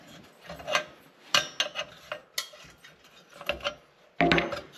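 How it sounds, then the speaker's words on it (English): Metal clicks, ratcheting and scraping as the generator is worked loose and pulled from a 1963 228E transitional lantern, a series of short, close, moderately loud mechanical sounds with quiet gaps between. "we'll pop this generator out of here and see why the tip cleaner did nothing when I turned it"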